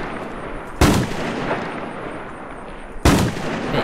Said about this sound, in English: We can shoot pretty far away.